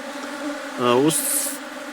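Honeybees flying in and out of hive entrances in a merged colony, a steady buzzing drone close by with one louder, nearer bee passing briefly.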